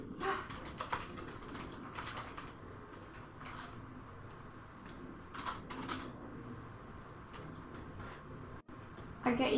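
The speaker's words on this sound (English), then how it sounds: "it's nice just to hear other people tapping and working on their keyboards and with their mice" People typing on computer keyboards and clicking mice during a morning live stream, with soft scattered key taps in loose bursts under a quiet room tone, faint and fairly close.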